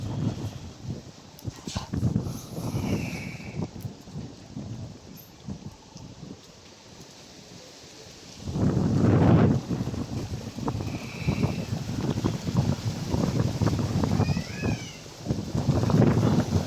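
Wind blowing near a river, heard from inside a house as a low, rushing roar that is fairly quiet at first, then gusts louder in surges through the second half.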